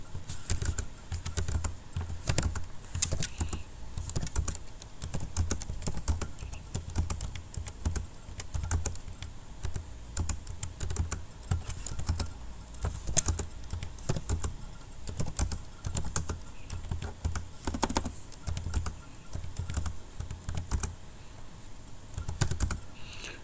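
Close-up typing on a computer keyboard runs steadily for the whole stretch, with quick irregular keystrokes and no voices.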